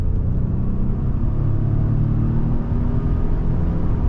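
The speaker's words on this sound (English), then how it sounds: "Okay, so we're gonna go ahead and do our acceleration test now." A Ford Expedition XLT 4x4 accelerates during a test drive, heard from inside as a loud steady engine rumble and road drone that holds without pause.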